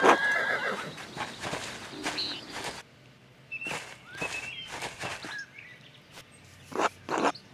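Horses whinny and neigh in the medieval video game Pentiment, with several loud bursts spread across the scene alongside hoof clip-clops and light shuffling, and no talking.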